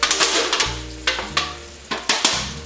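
Onions tipped into melted butter in a pot for onion soup, sizzling under repeated sharp knocks and scrapes of a utensil against the pot, close and fairly loud with no talking.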